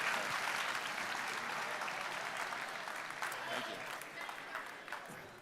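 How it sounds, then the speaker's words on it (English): Sustained applause from a crowd, dense clapping that holds steady then gradually thins toward the end. "let's give a round of applause to everybody here."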